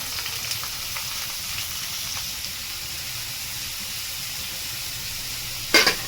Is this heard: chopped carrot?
yes